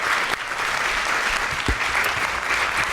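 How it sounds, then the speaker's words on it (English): Audience applause at a youth summit competition after a contestant's question round, a loud sustained patter of many hands clapping evenly, with a few low thumps mixed in. "Let's give Hope another round of applause for not easy questions."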